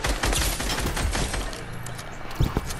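Rapid gunfire in a video game shooter, dense bursts of shots crackling continuously close up, with a couple of sharper hits near the end and no voices.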